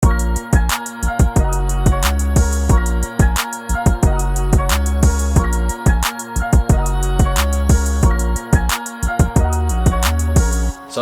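A beat plays loud and steady, with punchy rhythmic drum hits, a piano part and a vocal melody layered over a rolling bassline, with no talking.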